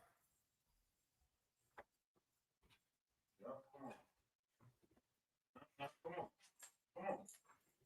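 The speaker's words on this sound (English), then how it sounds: "I told you stop barking." A dog indoors gives scattered short barks, yips and whimpers, quiet at first and then in denser bursts toward the end, with no voices over it.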